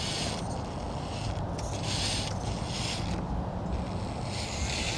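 A small RC crawler with a 130 motor and two-speed transmission runs in low gear, giving a constant gritty mechanical whir with brief brighter surges of gear and drivetrain noise, up close.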